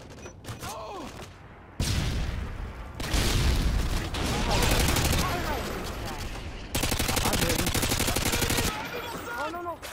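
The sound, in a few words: FAMAS rifle gunfire in a video game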